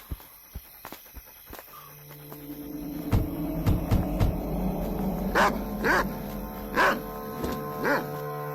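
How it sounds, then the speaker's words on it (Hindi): A dog in a Hindi film scene barks repeatedly in a series of loud, close yaps, with footsteps and a low background hum, and people talk around it. "इसका खाना कोई और कुत्ता खा गया होगा तभी इतना भौंक रहा है।"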